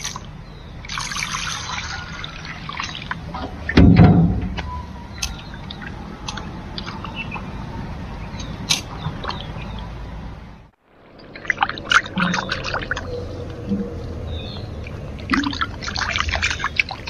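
Tap water trickles and splashes steadily while a large fish is washed in a home kitchen, with a brief louder splash and a short pause partway through, close and without speech.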